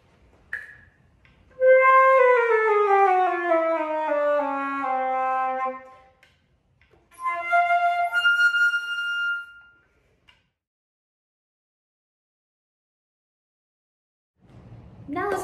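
A wind instrument, most likely a flute, plays clear sustained tones: a long gliding phrase, a pause, then a shorter phrase, heard up close with nothing else around it.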